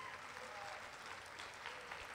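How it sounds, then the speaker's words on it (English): Audience applause at a sixth and eighth grade spring school concert, a steady, dense clapping sustained evenly throughout at moderate, somewhat distant level. "nice round of applause for Jake sitting in and helping us out this evening"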